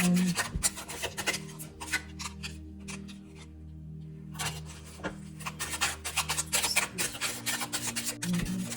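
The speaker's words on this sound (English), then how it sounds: "anybody want to shuffle?" Deck of cards being shuffled in bursts of close, crisp riffling and rubbing, pausing briefly in the middle before resuming, with a faint steady hum underneath.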